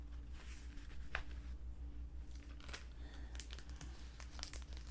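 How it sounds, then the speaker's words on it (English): A magazine is slid into a plastic bag, giving quiet crinkling and rustling with a few sharper plastic crackles at close range over a low background hum. "I think I'll put this in a plastic bag just to keep it in shape at least."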